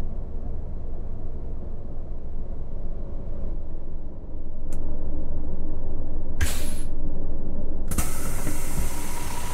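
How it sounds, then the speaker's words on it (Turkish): Automatic doors of a MAN Lion's Coach in Fernbus Simulator open with sharp pneumatic hisses, a short burst followed by a longer sustained hiss over a low idling engine rumble. "Kapıları açtık otomatik olarak."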